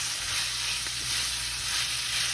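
Beef, potato and celery mixture sizzling steadily in a skillet, a continuous close, even frying hiss with no talk over it.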